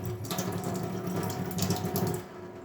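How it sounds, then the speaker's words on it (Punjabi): Water runs from a kitchen tap onto baking soda in a sink, a steady close splashing flow that stops abruptly near the end, with no voices. "ਹੁਣ ਅਸੀਂ ਇਹਨੂੰ ਹਲਕਾ ਜਿਹਾ ਪਾਣੀ ਪਾਵਾਂਗੇ"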